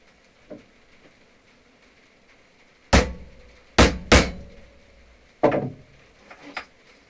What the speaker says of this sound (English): That rivet is set.